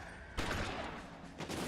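Gunfire in the video game L.A. Noire, two bursts of shots, the first longer and loud, then a brief second volley, heard up close in a city shootout.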